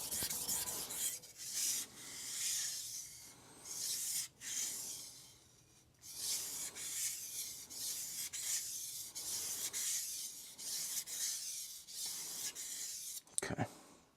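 A knife edge ground on a Suehiro Cerax 1000 vitrified whetstone, a steady chalky, gritty rasp in repeated back-and-forth strokes, close and quiet, with brief pauses between passes.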